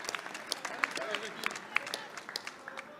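Scattered applause in the French National Assembly chamber, a thin patter of claps of uneven rhythm with a few sharper accents, over a murmur of voices in the room.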